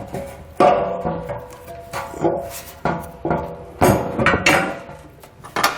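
A Curt trailer hitch is worked up into place around a muffler beneath a 2021 Mazda CX-5, giving sharp metallic knocks and clanks in irregular bursts with scraping between them, close and fairly loud.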